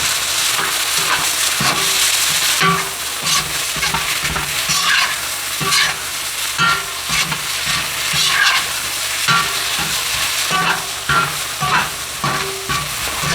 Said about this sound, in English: This stir-fry process is over medium heat. After 1 minute stir-fry, you'll notice garlic become lightly caramelized.